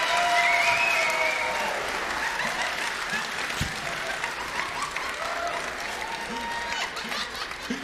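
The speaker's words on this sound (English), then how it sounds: "I can't believe you guys applauded for that." Audience applauding at a standup comedy competition, a dense burst of clapping and crowd noise that starts loud and slowly thins out, with a few whoops and voices mixed in.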